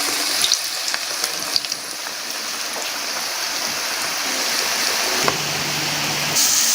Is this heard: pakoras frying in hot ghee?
yes